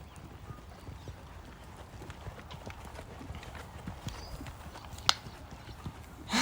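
A horse canters in a dressage shoulder-in exercise at home, its hoofbeats thudding in a steady three-beat rhythm, moderately close with a soft ambient background.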